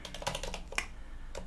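A computer keyboard is typed on in quick, close bursts of crisp clicks, with a short pause partway through.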